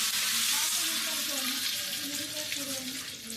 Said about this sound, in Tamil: தாளிக்கிறதுக்கு ஆயில் ஊற்றிக்கலாம்